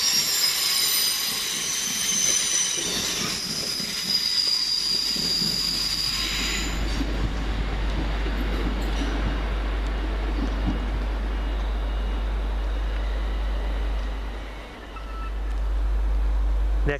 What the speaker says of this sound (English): Just now leaving the 10:50, the London Midland service from London Euston to Crewe via Alsager.